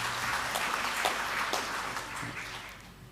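An audience at a public information awards ceremony in Indonesia applauds village representatives, a moderate, steady clapping that fades slightly toward the end.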